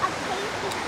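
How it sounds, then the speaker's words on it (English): Steady broadband rush of a waterfall beside a creek near a cave, a constant roar with no breaks, fairly loud and close. "We're just coming into the waterfall now."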